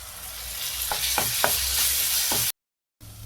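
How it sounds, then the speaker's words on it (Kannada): Onions and ginger garlic paste fry in hot oil for a restaurant-style chicken gravy, giving a steady close sizzle broken by a few quick stirring scrapes before a brief cut. "ಅಲ್ಲಂ ಬೆಳ್ಳುಳ್ಳಿ ಪೇಸ್ಟನ್ನು ಹಸಿ ವಾಸನೆ ಹೋಗುವವರೆಗೂ ಚೆನ್ನಾಗಿ ಫ್ರೈ ಮಾಡ್ಕೋಬೇಕು"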